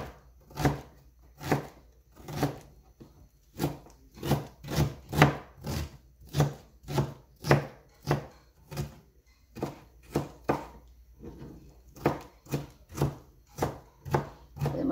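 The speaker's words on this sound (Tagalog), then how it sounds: "So, hiwain natin din ng maliliit." Ginger is chopped into small pieces on a board for kinilaw, a steady run of close, crisp knife knocks that comes in quick bursts with short pauses.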